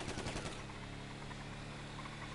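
Rapid bursts of gunfire in GTA V Online crackle loudly at the start, then fade into a steady mechanical drone with faint popping.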